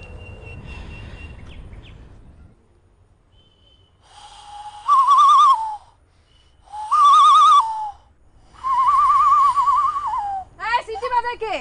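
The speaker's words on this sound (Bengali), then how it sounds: "এই সিটি বাজায় কে?" Three loud whistled bursts, each about a second long, come one after another with pauses between them. A shorter warbling whistle follows, and murmuring voices are heard before them.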